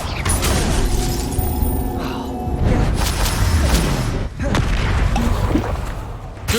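Confringo blasting spell explosions in Hogwarts Legacy on Xbox Series X, repeated booming thuds and crackling magical bursts amid busy combat noise, with spell incantations shouted over them.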